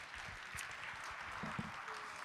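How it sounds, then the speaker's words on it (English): Faint applause from a candidates' forum audience, a soft, steady patter of clapping heard from a distance. "Let's have a huge round of applause for both of our candidates."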